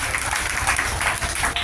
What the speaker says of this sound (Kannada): ಚಪ್ಪಾಳೆ ಹಾಕ್ತಿದ್ರು.